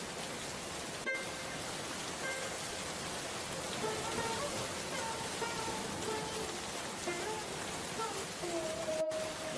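Steady rain falls on surfaces in a dense, even hiss at low level, with a couple of faint distant car horn toots and no clear speech.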